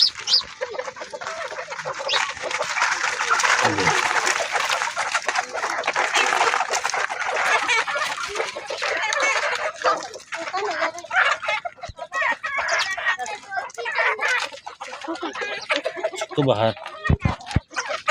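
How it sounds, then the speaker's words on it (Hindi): Farm chickens gathered together clucking continuously at close range, with occasional louder calls and a rooster-like crow among them, while someone talks over the flock throughout. "ये हमारी मुर्गियाँ इकट्ठा हुई है सब।"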